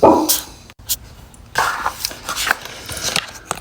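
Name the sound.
dogs barking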